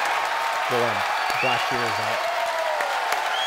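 A crowd watching a SpaceX Falcon Heavy launch cheers and applauds at side booster separation, a steady wash of noise while a voice calls out over a radio loop.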